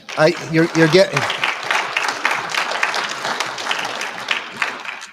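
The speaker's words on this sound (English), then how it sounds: "you're getting a good round of applause on that comment" A conference audience at a Saturday lunch keynote breaks into sustained applause right after a short burst of speech, the clapping dense and even before thinning slightly toward the end.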